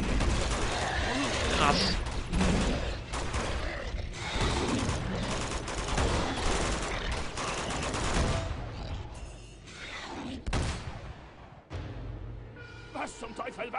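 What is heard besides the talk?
gunfire in the video game Uncharted 2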